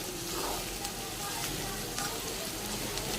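Chili, onion and curry leaves roast in a hot pan with a steady, soft sizzle and crackle that holds evenly throughout, close and quiet.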